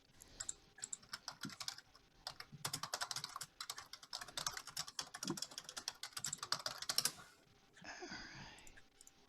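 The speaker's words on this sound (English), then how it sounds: "I need a quiet keyboard specifically for streams, I think. Not my 15-year-old keys are worn out keyboard. I love the clicky keyboards, though." Rapid typing on a 15-year-old clicky mechanical computer keyboard with worn keys, dense bursts of sharp key clicks for several seconds, close and quiet, then a brief rustle.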